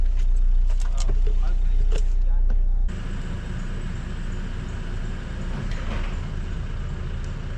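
A Land Rover drives off with a steady low engine rumble and road noise close up, preceded by a few seconds of clunks and handling sounds before the engine note settles; no talk is audible over it.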